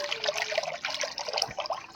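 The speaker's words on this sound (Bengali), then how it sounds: "এই যে কড়াইতে ঢেলে দিচ্ছি" Homemade tomato puree pours into a wok, producing a continuous wet gurgling trickle, close and moderately loud with no voices.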